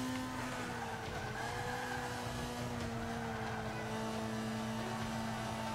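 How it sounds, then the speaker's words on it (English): A Mazda MX-5 Miata in Forza Motorsport 5 on an Alps track, with a steady engine drone and a faint, brief tire squeal as a wheel spins, all at low level with no talk. "Oh, I just spun the tire just a touch there."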